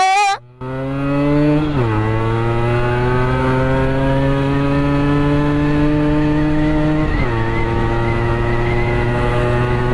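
A Yamaha RX100 motorcycle engine runs loud and close, holding a strong, buzzy steady drone that revs up and eases back twice, with a sharp throttle blip at the very start and no voices.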